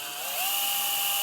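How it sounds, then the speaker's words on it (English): A power drill drills through a chassis for an all-tube phono preamp; a close, steady high whine rises in pitch as the bit spins up, then holds level. "we drill that through."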